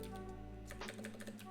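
A short burst of typing on a computer keyboard while entering a database query, several quick, quiet key clicks in the second half over a steady low hum.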